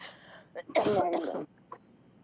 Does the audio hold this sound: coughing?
yes